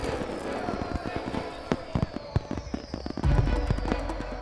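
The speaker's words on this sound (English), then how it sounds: "light a trail leading to the crates to create a flurry of fireworks" Fireworks set off by a lit trail leading to crates in a movie scene, a rapid scatter of sharp crackling pops and bangs over a hissing background, with a heavier thump near the end.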